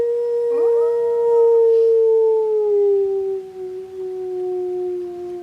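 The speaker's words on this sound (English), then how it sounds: "A dog?" A single dog gives a long, loud, close howl as a radio drama sound effect, rising at first, then holding a clear drawn-out tone that slowly sinks and fades near the end.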